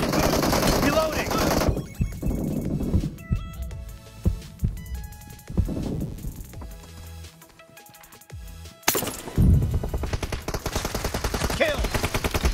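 Gunfire in BGMI, a mobile battle royale game, during team deathmatch: bursts of rapid automatic fire come loud and close, fall to a sparse quiet stretch with scattered clicks, then return as heavy sustained shooting.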